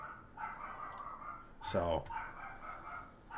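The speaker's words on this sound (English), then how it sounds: "stupid dog." A dog gives one short, loud bark in the middle, with someone talking before and after it.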